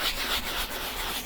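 Rubbing at a yellow stain on a seat, a steady soft scrubbing friction that runs continuously, close and fairly quiet, with no voices.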